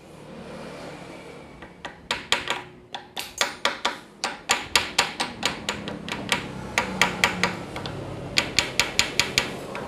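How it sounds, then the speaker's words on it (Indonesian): A small hammer taps repeatedly on parts of a Toyota Innova 2KD diesel engine during assembly. The sharp metallic strikes come in quick, fairly regular bursts, close and distinct, with no talking over them. "Palu cilik iki."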